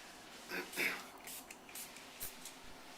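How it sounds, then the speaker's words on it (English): Granite Shield sealer is spritzed onto a granite surface in a few short, soft hissing bursts, separated by brief pauses, with quiet rubbing and handling noises between the sprays. "all we're going to do is spritz it on and just rub it in with a towel"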